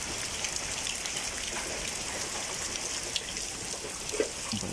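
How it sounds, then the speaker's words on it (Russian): Heavy rain pours down at night over an abandoned building in Naples, a dense, steady hiss of drops with a few sharper splashes close by and no voices. "Вот такой ливень льет."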